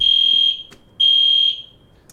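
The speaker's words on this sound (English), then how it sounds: "That is a fire alarm." A building fire alarm being tested, sounding two loud, piercing electronic tones about half a second each with a brief gap between them, close and clear.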